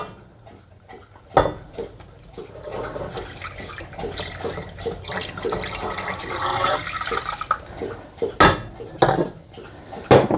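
Whole milk pours into a pan of flour mixture with a steady liquid rush over several seconds, framed by clanks of a pot and utensil at the start and end, close and without talk.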